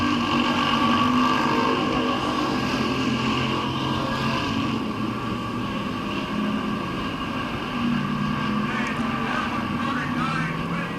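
Race cars roaring around the oval at Midvale Speedway on the final laps, a dense continuous engine drone blended with crowd and track noise, with a public-address announcer talking over it.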